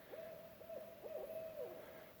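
Repeated low hoots from an owl carry through still woods, several quick wavering calls in succession, soft and somewhat distant against faint background hiss.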